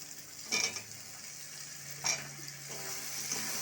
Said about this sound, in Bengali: মশলার সাথে শুটকি মাছটা কষানো হয়ে গেছে এবার সব সবজিগুলো আস্তে আস্তে দিয়ে দেবে